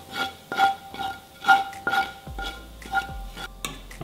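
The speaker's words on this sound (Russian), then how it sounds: "Обязательно хорошенечко перемешать." A spoon stirs beet salad in a bowl, producing a rhythmic series of wet scraping and clinking strokes, about eight close, distinct pulses with a low thump near the end.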